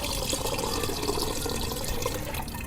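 Water running and splashing steadily as soaked ingredients are drained and squeezed while making a chilled sardai drink, a continuous close liquid trickle with no talk.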